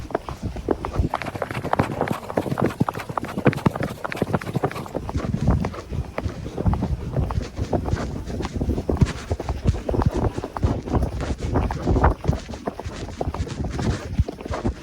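A horse gallops on an outdoor ride, its hooves pounding in a fast, steady, close rhythm of dense thuds that carries on throughout without talk.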